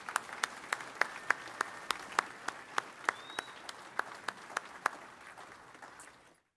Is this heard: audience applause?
yes